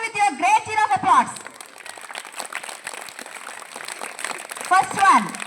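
An audience applauds a children's karate performance: bursts of clapping mix with a presenter talking over a loudspeaker, the applause moderate and rising and falling beneath the voice.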